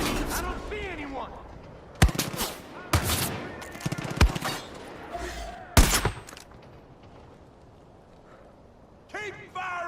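Gunfire rings out in a zombie shooter game, with a few sharp, loud volleys and single shots spaced across the stretch, mixed with shouting voices and music-like tones between bursts.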